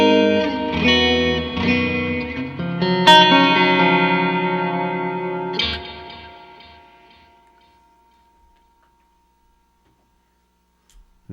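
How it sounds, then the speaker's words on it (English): A Stratocaster electric guitar played through delay and reverb on an Axe-FX. Several ringing chords and notes sound close and clear, then a long echoing tail fades slowly into near silence. "So this is just Strat, and then I think it's just delay and reverb."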